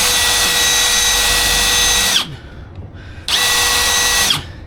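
A power drill spinning a worn countersink bit while building shelves whines loudly and close, running in two bursts with a short pause between them.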